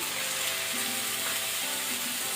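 Tomatoes drop into a pan of onions fried until pink for methi paneer sabji, setting off a loud, dense, continuous sizzle that fills the short stretch without pause, up close.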